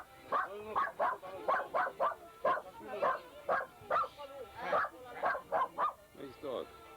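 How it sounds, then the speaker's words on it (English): A dog barks in a rapid series of about a dozen sharp, fairly close barks with short gaps, a couple of yips mixed in toward the end. "Nice dog."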